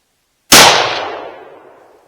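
A single sharp rifle shot from a Remchester 6.5 Creedmoor, loud and close, cracking out of silence and trailing off in a long fading echo.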